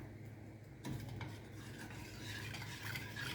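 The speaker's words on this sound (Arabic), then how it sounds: "هقلبهم لحد ما يغلوا معايا" A spoon stirs and scrapes a milk, sugar and starch mixture inside a pot in steady, continuous motions, with soft clinks against the metal and no talking.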